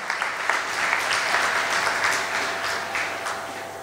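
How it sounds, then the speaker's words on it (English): Audience at a 2020 high school graduation ceremony breaks into steady, dense applause, a sustained wash of many hands clapping in a large room. "let's give the students and our teachers and new parents a round of applause"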